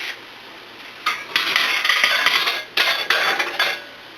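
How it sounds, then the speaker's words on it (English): Chili being stirred in an Instant Pot, with two bursts of vigorous metallic scraping and clanking against the pot that pause briefly in between. "let's stir that up really good"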